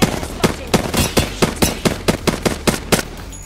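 Mastiff shotgun fired in Apex Legends, a rapid string of about a dozen loud, close blasts at a steady pace with short gaps between them, and no talking over them.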